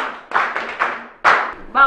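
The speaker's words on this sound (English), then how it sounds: "Clap for her" Classmates clap for a pupil in a school classroom scene from a Hausa film, giving a few short bursts of hand claps with pauses between them, close by.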